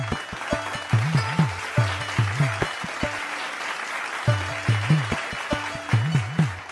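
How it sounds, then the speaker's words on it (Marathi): An audience claps in a steady, moderately close burst of applause, with musical background tones pulsing beneath the clapping. "टाळ्या."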